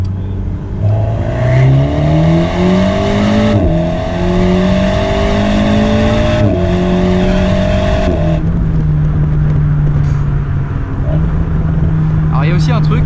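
An Alpine A110 sports car accelerating hard with its factory sport exhaust, the engine note climbing through several gears in rising sweeps, loud and close, ending in a sharp crackle of exhaust pops; people talk briefly over it.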